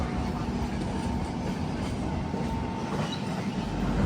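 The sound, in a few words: express train running on rails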